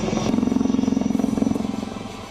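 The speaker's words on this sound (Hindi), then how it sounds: "सेना के हेलीकॉप्टर लगातार पहाड़ियों के ऊपर घूम रहे हैं" Army helicopters circle over wooded hills during a search operation, a steady throbbing rotor beat pulsing rapidly and continuously at moderate loudness before easing slightly toward the end.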